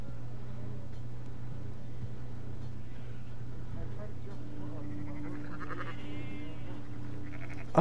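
Sheep bleat in short wavering calls toward the end, mid-distance, over a steady low engine-like hum, with people talking throughout.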